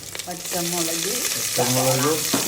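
Ginger, garlic and green chillies fry with curry leaves in a pan for a chicken-parts curry, making a continuous sizzle with a voice sounding over it.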